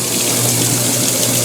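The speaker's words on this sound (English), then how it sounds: "So now we're in the rinse spin cycle" A high-efficiency clothes washer in its rinse spin cycle, giving a loud, steady rush of water and motor noise close by with no pauses.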